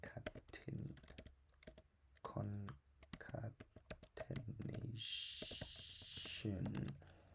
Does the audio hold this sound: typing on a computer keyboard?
yes